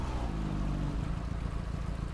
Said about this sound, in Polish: oba pojazdy mają włączone silniki.